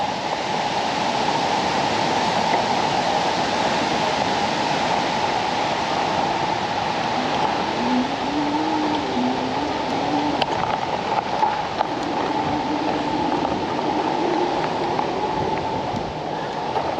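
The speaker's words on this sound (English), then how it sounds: "there's a waterfall there. I don't know if you can see the water or not, but rushing over" A waterfall running with high water roars steadily, a dense, continuous broadband rush at even loudness throughout, heard alone with no talk.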